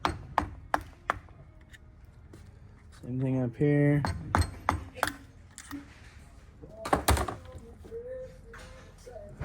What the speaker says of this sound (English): I'll get a flathead and I'll knock those loose like that